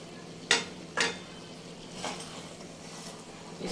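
Bitter gourd and chana dal with ground garam masala being stirred in a pot, two crisp spoon scrapes followed by softer mixing over a quiet background.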